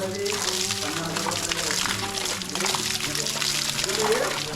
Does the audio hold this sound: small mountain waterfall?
yes